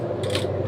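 A washing machine's mechanism starts up with a brief, close ratcheting and gear-like clicking over a low electrical hum, lasting under a second.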